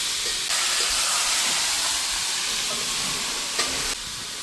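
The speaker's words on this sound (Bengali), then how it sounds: "এখন আমি মাংসটা দিয়ে নেব। মাংসটা দিয়ে কিছু সময় নেড়ে চেড়ে নেব।" Country chicken meat frying in a pan is stirred over a loud, dense hiss of sizzling oil and steam that holds steady before dropping slightly at the end.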